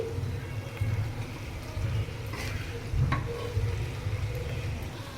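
Tomato hitting a hot pan for a restaurant-style paneer butter masala, with a steady low sizzle and a few stirring scrapes at a moderate, close level, no talk.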